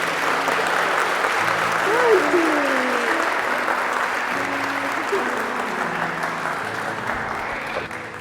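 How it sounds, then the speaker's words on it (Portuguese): A church congregation gives warm, sustained applause, a thick wash of many hands clapping steadily, with faint voices and cheers mixed into the crowd noise. "Vamos recebê-lo com uma calorosa salva de palmas"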